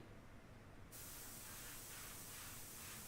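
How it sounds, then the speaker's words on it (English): An airbrush sprays paint onto a portrait from about four inches away, giving a steady, loud, continuous hiss that grows stronger after a brief quieter start. "I'm just going to spray the shadow plane as this jawline is turning away"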